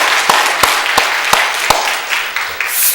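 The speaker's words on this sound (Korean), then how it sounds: "그래서 힘차게 박수 한번 하겠습니다." A church congregation claps during a Sunday morning service, a few sharp separate claps then scattered softer clapping that fades, with no talk over it.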